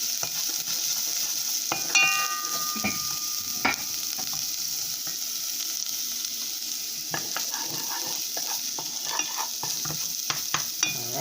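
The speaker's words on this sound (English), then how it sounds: "Fry it up." Onion and garlic frying in a pan, a steady sizzle with occasional stirring scrapes and utensil clicks against the pan, close and moderately loud, with no one speaking.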